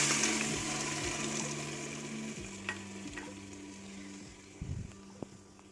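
Ground spinach greens hit hot oil tempered with mustard seeds and curry leaves in a cooking pot, giving a steady close sizzle and frying hiss. A low mechanical hum runs underneath, with a few soft clinks of stirring.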